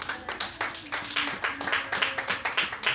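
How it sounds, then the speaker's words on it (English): A church congregation applauds, giving a moderate burst of scattered hand claps that patters on steadily for a few seconds. "A round of applause for Jesus."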